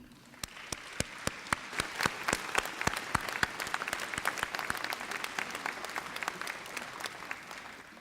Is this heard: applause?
yes